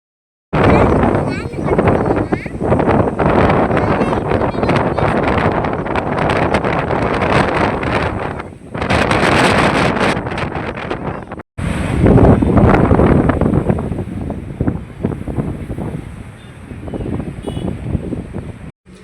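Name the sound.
forceful water flow at Ethipothala waterfall, Nagarjunasagar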